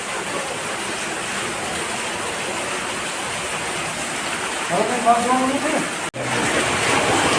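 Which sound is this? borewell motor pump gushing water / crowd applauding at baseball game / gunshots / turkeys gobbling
borewell motor pump gushing water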